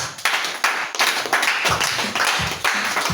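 A church congregation claps for Jesus during a French-language sermon, heard as close, fairly loud clapping in an uneven rhythm of separate strong strikes, with no voices over it.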